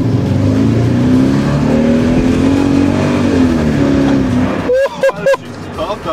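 A modern Hyundai car's engine revs loud and close with a steady droning roar that climbs in pitch as it accelerates, then breaks into short sharp bursts near the end.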